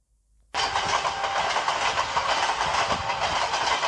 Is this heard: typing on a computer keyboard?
no